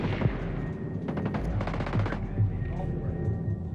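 Rapid bursts of gunfire from a sniper in a team-based shooter video game, firing in quick runs through the middle of the clip over a steady game background, with a player talking briefly.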